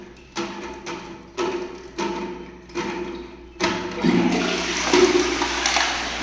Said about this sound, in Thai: แต่ว่าน้ำยังไหลเข้ามาในชักโครก